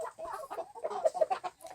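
Several chickens cluck close by in quick, busy bursts, their short calls overlapping in an uneven chatter.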